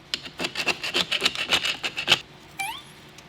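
A differential ring gear mating surface is scraped clean of slag in about a dozen quick, close, rhythmic scraping strokes, followed by a brief high squeak once the strokes stop.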